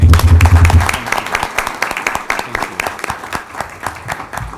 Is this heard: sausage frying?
no